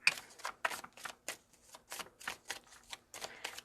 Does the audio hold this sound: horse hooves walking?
no